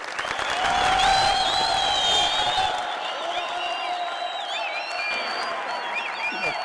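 Audience applause welcomes a guest onto the stage at a live comedy show, a dense and steady clapping crowd with some cheering, swelling early and then holding at an even level.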